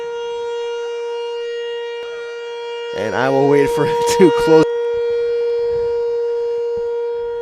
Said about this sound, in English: you can hear the siren going on in the background to signify